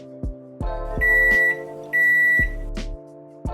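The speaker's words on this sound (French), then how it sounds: "Ici, juste 10 secondes suffisent au micro-ondes pour un citron." A microwave oven heats a lemon for about ten seconds, its low electrical hum starting and stopping in short bursts, with two steady high beeps sounding over the running hum, close and clear.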